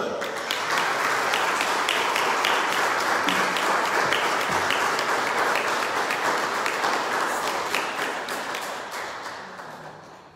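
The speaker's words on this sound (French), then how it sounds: "Bonne main d'applaudissements" A congregation at a Mass applauds steadily, dense clapping from many hands filling the church for several seconds before tapering off at the end.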